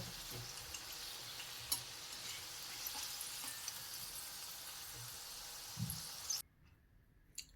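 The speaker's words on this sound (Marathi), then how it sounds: "याच पद्धतीने राहिलेले मोदकही आपण डीप फ्राय करून घेऊया" Modak dumplings deep fry in hot oil with a dense, steady sizzle and crackle up close, joined by a brief clatter, before the frying abruptly cuts to near silence.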